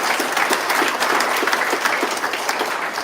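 An audience at a government proclamation signing for typhoon preparedness gives a round of applause, dense continuous clapping from many hands, steady and fairly close throughout.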